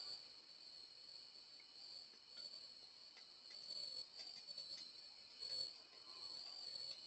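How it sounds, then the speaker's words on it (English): Crickets chirping at night, a faint steady high trill with slightly uneven pulses and no other sounds. "The crickets say goodnight to you as well."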